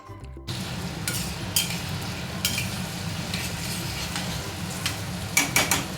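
Garlic, ginger and tomato are stirred in a hot pan, with a steady sizzle of frying and a few sharp scrapes and clinks of the spoon against the pan.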